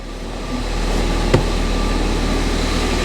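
A Ford Fiesta ST180 engine idles smoothly and evenly, a steady low hum with no stumbles, broken only by a single faint click partway through.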